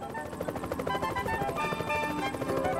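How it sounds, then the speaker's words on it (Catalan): A helicopter arrives over the s'Albufera wetland, its rotor producing a steady, fairly close chopping thrum throughout. "El moment més esperat de la jornada és l'arribada de l'helicòpter."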